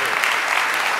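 A crowd applauding at a New York launch event at the Urban Zen Center, a brief burst of steady, full clapping that fills the room.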